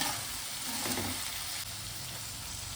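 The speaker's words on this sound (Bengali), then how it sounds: "দিয়ে আবার 1 থেকে 2 মিনিট আমি ভাজা করে নেব" Steady, close sizzling of capsicum frying in a hot pan, a continuous crackling hiss with no voices.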